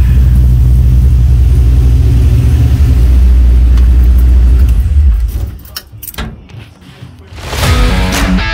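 A 1965 car with full exhaust idles in a loud, steady, deep rumble up close, then cuts to quieter mechanical clatter before a final rising rev.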